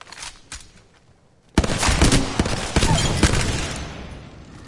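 Gunfire rattles in Apex Legends: scattered shots at first, then a loud, sustained barrage of rapid automatic bursts erupts and keeps going to the end.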